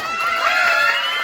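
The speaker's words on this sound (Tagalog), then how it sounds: "Isang palakpakan may kasamang sigawan." Applause mixed with shouting and cheering from an audience at a Filipino gathering, a dense, steady crowd roar that lasts the whole short moment.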